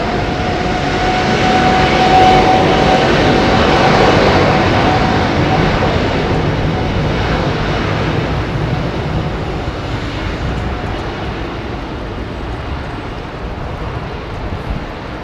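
Jet engines throttle up for takeoff at Heathrow, a loud, broad roar that swells over the first few seconds and then slowly eases as the aircraft moves off, with no voices.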